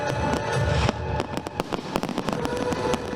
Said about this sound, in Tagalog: daan-daang Pilipino ang dumayo para makanood ng fireworks show